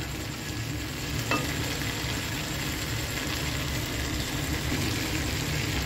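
Green chillies sizzle in oil with garlic and ginger, a dense, even frying hiss that holds close and steady throughout with one faint click from the pan and no talk.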